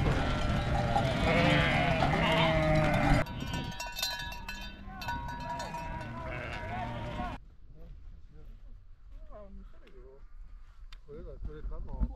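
Sheep bleat amid horses in mountain pastureland between Hojikol and Tutqora, Uzbekistan, with background noise, a clanking bell and people talking nearby.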